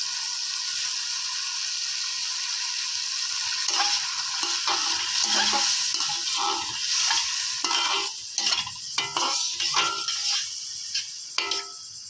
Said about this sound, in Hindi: इसमें दही डालने के बाद अब हम इसको पका रहे हैं